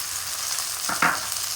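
Turmeric, Kashmiri chilli and red chilli powder sizzle in hot oil for a Bengali prawn and potato curry, a steady hiss with a couple of brief stirring scrapes near the end and no talking.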